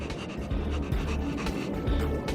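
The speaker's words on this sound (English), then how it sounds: "What a cute doggy!" A dog panting in the Honkai: Star Rail video game, quick rhythmic breaths repeating steadily over a soft background, moderately quiet and close.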